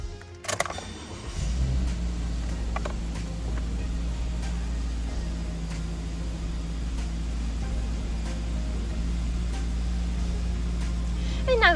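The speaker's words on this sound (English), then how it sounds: "I'll now just get inside this vehicle and turn it on for you." A 2021 Subaru Crosstrek Premium engine is started with a key, a brief crank burst settling into a steady low idle hum that continues close by.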